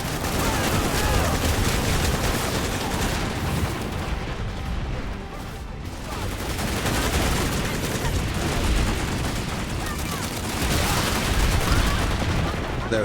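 Dense, continuous gunfire and bursts of explosive fire in Planetside 2 fill the whole stretch at a steady loud level, with a grenade thrown amid the battle; some talk is faintly present under the din.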